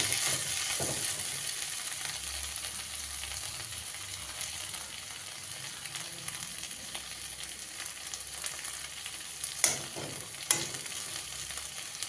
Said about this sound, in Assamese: মই মাংসখিনি পুনৰবাৰ ভাজিলোঁ